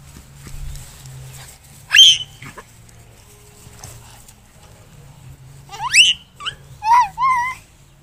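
A dog lets out short, high yelps and whines close by, one burst early and a quick cluster near the end, with quiet between.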